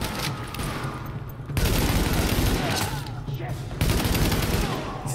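Rapid continuous gunfire rattles in dense bursts from the game Tom Clancy's The Division, loud and unbroken, with voices talking over it.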